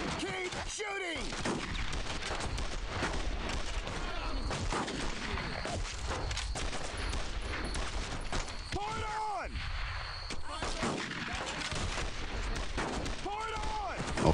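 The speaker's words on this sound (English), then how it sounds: "Keep shooting!" Gunfire in the World War II shooter Brothers in Arms: Road to Hill 30, a dense, sustained battle of overlapping shots and rolling booms filling the scene, with voices shouting over the din.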